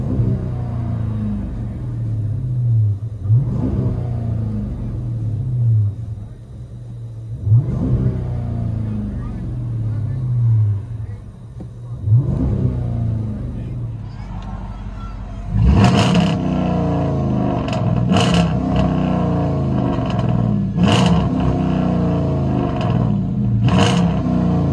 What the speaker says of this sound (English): Chrysler 300S 2013 rear muffler delete.